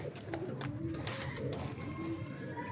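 Domestic pigeon cooing close by in a loft, several soft throaty coos over a quiet background.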